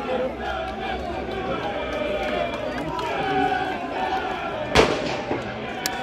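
Crowd noise fills a football stadium at an FC Chiasso match, with flares and fireworks going off; a single sharp bang stands out near the end over the steady roar and occasional pops.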